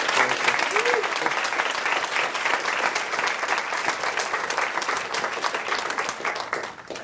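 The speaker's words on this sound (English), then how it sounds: "Or applause" Audience applause after a talk by Rob Greenfield, a full, steady crowd clapping that carries on for about seven seconds before tapering off at the end.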